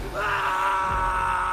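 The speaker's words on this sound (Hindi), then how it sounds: "कंडक्टर की एक चीख ने सबका खून जमा दिया।" A bus conductor lets out a long, loud scream in a horror tale, a sustained, strained, wailing cry with no words.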